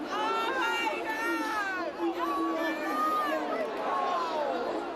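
Crowd at the Liverpool fan park on Champions League final afternoon: a dense, steady babble of many overlapping voices, near and lively, with individual calls rising briefly out of the murmur.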